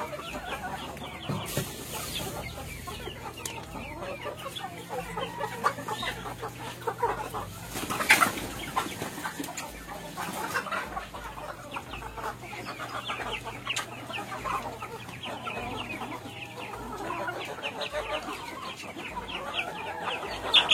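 Rhode Island Red chickens cluck steadily in a backyard flock around feeding time, with overlapping close and distant calls and occasional louder squawks over a constant farmyard bed of sound.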